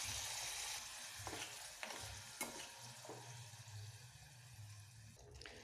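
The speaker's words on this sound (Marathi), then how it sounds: "ग्रेव्ही टाकून घेऊ, चांगली फ्राय करून घेऊ" Egg curry gravy with oil, chilli powder and turmeric frying in a pan, a low steady bubbling sizzle with several spatula scrapes and knocks, fairly quiet, no speech.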